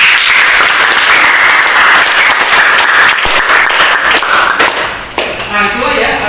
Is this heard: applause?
yes